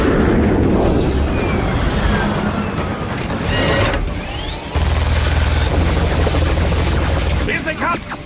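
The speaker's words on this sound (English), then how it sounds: "This is a transport chopper." A transport chopper in flight in the Metal Gear Rising: Revengeance video game, a steady mechanical rotor drone mixed with whooshing effects and clanking game sounds, loud throughout.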